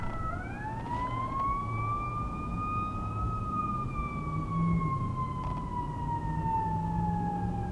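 An ambulance siren drives past, heard from the stationary back seat of a Tesla-powered Vanagon with carpet over the engine hatch: one long rising-then-falling wail, fairly loud and continuous, over low cabin rumble.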